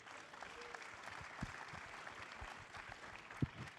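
A seated conference audience in Paris applauding, steady scattered clapping at moderate distance with a few louder claps standing out near the end.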